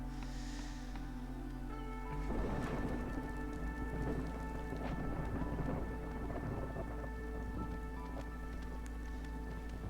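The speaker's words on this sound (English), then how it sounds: "Now we are rapidly approaching a storm." Thunderstorm with rain in the video game Against the Storm: steady rainfall patters throughout while a rolling thunder rumble swells partway in, under faint background music.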